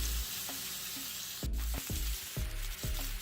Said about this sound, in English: I'm gonna actually let it simmer like this for 3 minutes